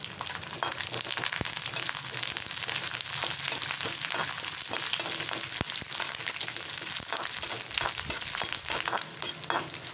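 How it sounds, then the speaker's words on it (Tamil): Chana dal and curry leaves fry in hot oil after mustard seeds splutter, tempering for a mango thokku: a loud, dense, continuous sizzle with constant crackling pops throughout. "இப்போ கடுகு பொரிஞ்சதும் கொஞ்சம் கடலை பருப்பு போட்டுடலாம். வச்சுருக்க ஒரு கைப்பிடி கறிவேப்பிலை போட்டுடலாம்."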